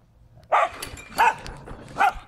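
Dog barking at a lawn mower, three sharp, evenly spaced barks close by over a low background rumble.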